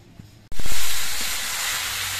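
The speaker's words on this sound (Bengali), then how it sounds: "ফুলকপির ডাঁটাগুলো বেশ কিছুক্ষণ রান্না করে নেওয়ার পর ডাঁটার মধ্যেকার সব জলগুলো কিন্তু শুকিয়ে গেছে" Cauliflower stalks cooking in a pan give a sudden loud burst of hiss and sizzle, like steam rising off hot oil, which stays steady after the first surge.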